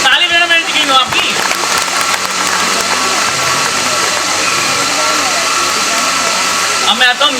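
Residents clap at a housing society's Independence Day celebration in a dense, loud burst of applause, with a voice speaking briefly before and after.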